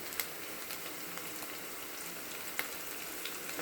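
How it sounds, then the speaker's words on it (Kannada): Ginger garlic paste fries in hot oil in a pan for egg fried rice, giving a steady, fairly faint sizzle with occasional small pops and no talking. "ಆಮೇಲೆ ಅದು ಸ್ವಲ್ಪ ಚೆನ್ನಾಗಿ ಫ್ರೈ ಆಗಲಿ. ನಾನು ಇಲ್ಲಿ ಸ್ವಲ್ಪ ಅಲ್ಲಂ ಬೆಳ್ಳುಳ್ಳಿ ಪೇಸ್ಟ್ ಹಾಕ್ತಾ ಇದ್ದೀನಿ"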